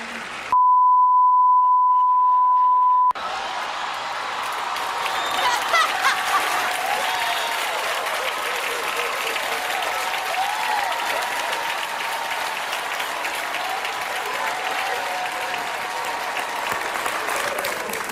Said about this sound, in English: one of the biggest rounds of applause came when Robert De Niro, went off script